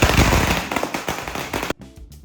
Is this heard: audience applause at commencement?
no